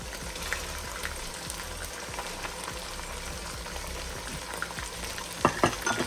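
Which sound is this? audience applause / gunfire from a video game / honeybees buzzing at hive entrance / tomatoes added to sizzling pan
tomatoes added to sizzling pan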